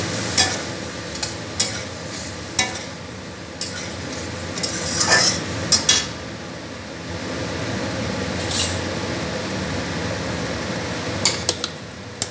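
Mutton simmering in a pot with mutton stock gives a steady sizzle and bubble, broken by sharp metallic clinks and scrapes of a ladle against the pot.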